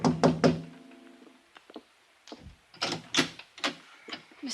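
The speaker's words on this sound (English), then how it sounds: "I tapped on the door" Several sharp knocks on an apartment door, a quick cluster of raps, a pause, then another series of firm knocks with no one speaking.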